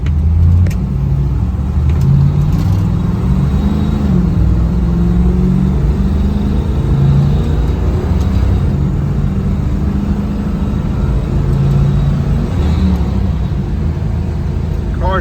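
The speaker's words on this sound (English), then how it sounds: "Car shifts through all the gears the right way. Plenty of power." A 1971 Chevrolet Camaro RS SS 396 V8 pulls hard through its gears, its deep engine note climbing and dropping with each shift, loud and close throughout.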